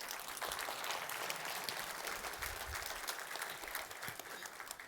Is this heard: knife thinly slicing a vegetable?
no